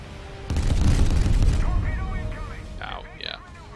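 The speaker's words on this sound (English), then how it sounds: "Starting to take fire from multiple sources." Naval gunfire and shell impacts in the Steel Ocean game around a Nagato Proto battleship: a heavy burst of booming fire and rumbling hits, then quieter rumble with a few sharp higher tones near the end.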